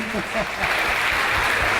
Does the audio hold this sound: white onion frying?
no